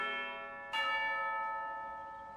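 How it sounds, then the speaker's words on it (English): A tea-time bell in the video game Genshin Impact strikes once and rings out with a long, shimmering, slowly fading tone over a faint background, no one speaking. "You hear the sound of a bell."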